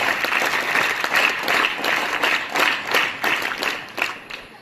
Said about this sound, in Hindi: हम उनके लिए भी एक बार जोरदार तालियां बजाएं। करताल ध्वनि।